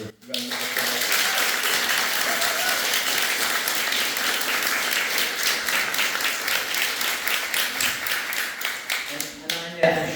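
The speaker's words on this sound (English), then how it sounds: "she deserves a big, wonderful round of applause" Sustained audience applause at a book launch, a dense steady roar of many hands clapping that tapers off, with a voice returning at the end.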